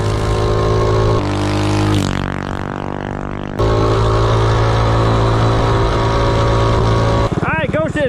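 A minibike with a Ghost engine fitted with a Predator 212 head runs on an Azusa bike, giving a loud, close, buzzing engine note that holds steady, dips, then returns, with a voice cutting in at the end.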